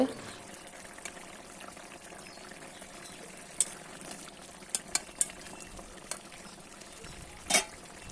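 A fish curry simmers and thickens in a pan, with a soft steady bubbling and a few sharp pops and clinks standing out against a quiet background.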